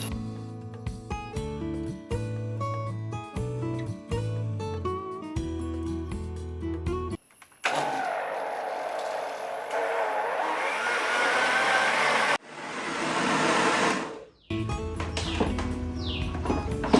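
Unniyappam batter mixed with milk is ground into a smooth paste, making two bursts of loud, steady whirring with a short break between. Music plays before and after the grinding.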